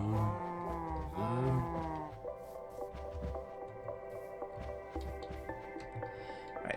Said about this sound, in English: All right, come on in, cows.